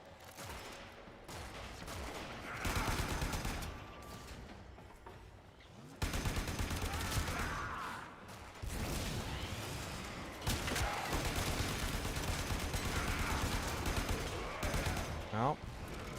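Rapid gunfire bursts from a Warframe game session, dense overlapping shots and explosions in loud sustained volleys, with a voice talking over the action.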